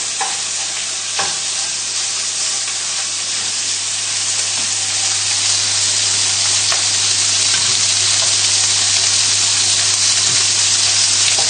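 Tagliatelle ingredients stirred in an oiled pan for a creamy bacon and mushroom dish, a steady loud sizzle and hiss of frying with occasional scrapes from stirring, close up and continuous.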